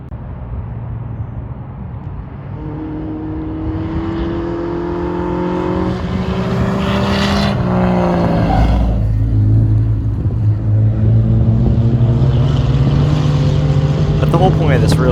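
A 1970 Plymouth Valiant race car on a road course enduro, its engine droning loudly and building in pitch as it accelerates, then settling into a heavy sustained roar that runs the length of the stretch.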